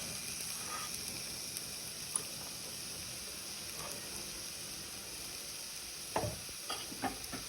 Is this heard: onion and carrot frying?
yes